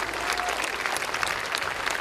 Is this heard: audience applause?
yes